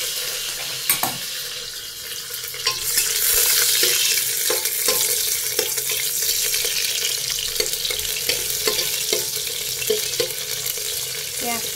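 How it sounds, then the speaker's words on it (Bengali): Onion drops into hot oil spiced with cinnamon, cardamom and bay leaf, setting off a loud, steady sizzle with scattered clicks and scrapes of stirring close by. "তেলটা গরম হয়ে গেছে, এবারে পেঁয়াজটাকে দিয়ে দেবো।"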